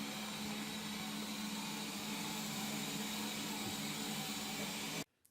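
A steady, whirring vacuum motor runs continuously at close range with a constant hum, then cuts off abruptly at the end.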